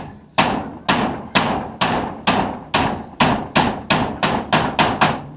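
Steady hammer blows drive nails into corrugated zinc roofing sheet, about a dozen sharp, loud metallic strikes in an even rhythm that quickens slightly toward the end, with no talk.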